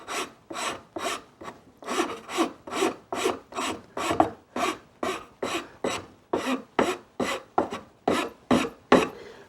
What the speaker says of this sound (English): The body file is, as you can see, this is the coarser one. It's going to remove wood fairly well.